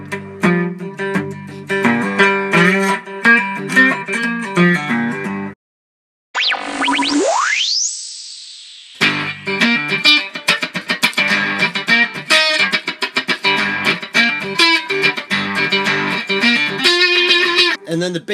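Electric guitar playing bluesy riffs and chords through a DIY tone box on its mid boost setting, a boosted, slightly gritty tone, broken by a brief silence and a rising synthetic sweep before the playing resumes.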